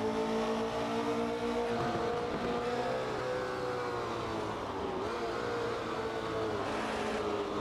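A 2.2-litre Porsche race car engine making 350 hp at 8,400 rpm in Assetto Corsa, droning and revving continuously with shifting pitch, loud and steady throughout.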